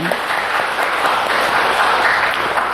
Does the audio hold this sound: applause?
yes